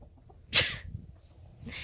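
A chicken on a farm lets out a single short, sharp cluck close by, followed by faint rustling.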